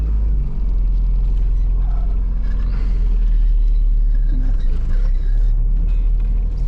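A Honda Civic engine runs steadily with a low, loud rumble as the car drives after a joint replacement, the hum continuous throughout.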